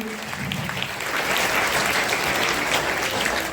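A school crowd claps for a sixth-class girl at a magazine event, a dense, steady burst of applause from many hands that swells slightly and holds to the end, with little else audible.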